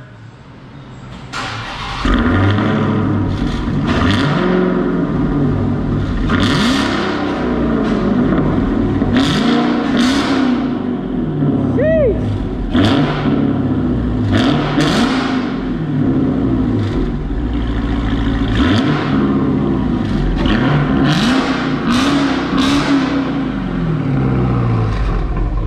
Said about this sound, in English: Get a couple revs.